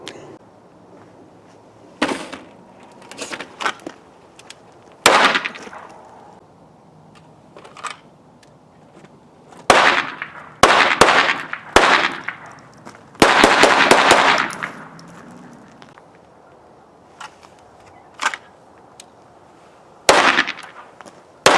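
Pistol shots fired during point shooting practice, sharp loud cracks arriving singly and in quick clusters with irregular pauses between them, close and with nobody talking.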